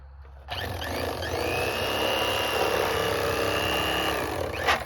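An electric fillet knife cutting bass or bluegill meat off the backbone, starting abruptly into a steady close buzzing whine that holds at partial throttle for several seconds before ending, with no talk.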